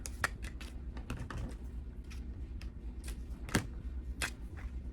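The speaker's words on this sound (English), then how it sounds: "So I'm gonna put on my tape." Tape is pulled and pressed onto a small paper trick-or-treat bag, giving soft crinkling taps and brief ripping ticks at an irregular rhythm, close up and quiet.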